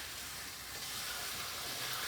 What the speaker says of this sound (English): started frying up these turkey breasts.